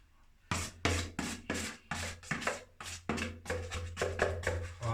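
Filler on a wall being sanded by hand with firm back-and-forth rasping strokes, about a dozen close, loud scrubbing passes in a steady rhythm.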